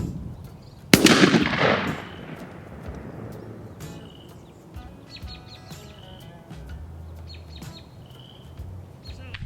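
A turkey shotgun fires a tungsten TSS load while being patterned: one loud, close blast that rings out and decays over about a second, followed by quiet outdoor ambience with faint bird chirps.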